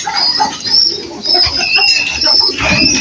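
Two white pigeons cooing together, soft murmuring coos repeating through a steady background of other birds, close and continuous with no voices.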